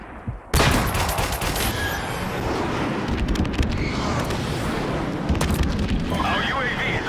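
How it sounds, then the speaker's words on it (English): An airstrike in Modern Warfare Remastered multiplayer lands as a loud, continuous barrage of overlapping explosions and rumbling blasts that starts abruptly and rolls on for several seconds, with gunfire mixed in. "Friendly airstrike on the way."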